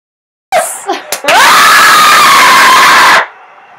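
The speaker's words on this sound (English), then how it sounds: "You don't need to scream" A crowd of people screaming and cheering in excitement, a few short shouts first, then a loud sustained burst of many voices yelling together before cutting off abruptly.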